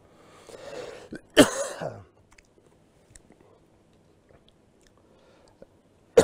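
One sharp, harsh cough close to the microphone, with soft rustling before it and near silence after.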